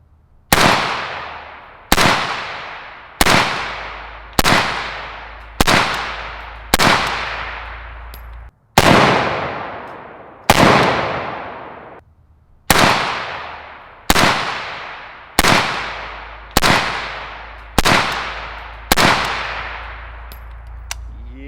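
A suppressed LMT ION K 5.56 rifle fires about fourteen sharp, loud reports at a steady pace of roughly one shot every 1.5 seconds, with short pauses after the sixth and tenth shots. Each crack has a ringing decay.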